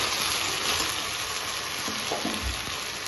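Small mourola fish being gently turned in a pan as the water cooks off: a continuous close frying hiss with faint soft scrapes of stirring underneath.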